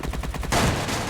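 Gunfire in a team-based shooter video game shootout: a quick run of rhythmic shots, then a louder, dense burst of sustained fire filling the rest, with no talk over it.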